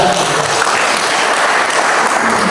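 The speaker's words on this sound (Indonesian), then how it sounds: "begitu dulu kita tepuk tangan bagi Tuhan" A Sunday service congregation at GBI Nanggala Toraja claps for the Lord, a loud, continuous burst of applause from many hands, close and filling the room with no voices over it.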